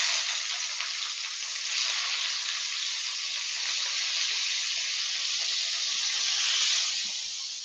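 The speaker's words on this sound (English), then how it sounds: "Be aware when you're frying, and this goes for paneer and halloumi, it will spit" Food frying in hot oil at close range, a steady loud sizzle with occasional crackles and spits from water-laden cheese such as paneer or halloumi, running throughout with no talk.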